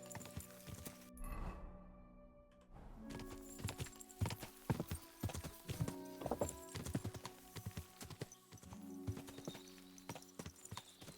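Horse hooves clip-clopping in Kingdom Come Deliverance 2 while riding, a steady stream of close hoof clops with a brief whinny near the start over soft game ambience.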